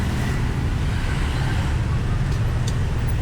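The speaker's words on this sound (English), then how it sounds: "This is a traffic jam, you know." Street traffic in a jam in Purwokerto, Central Java: a constant loud rumble of cars, buses and engines idling and creeping along, a dense continuous roadway drone with no clear speech.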